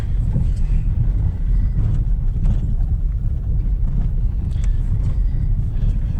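An off-road vehicle rolls slowly down a steep dirt hill track in the bush, its engine a steady low rumble with crunching and bumping over rough ground, close and continuous with buffeting wind on the microphone.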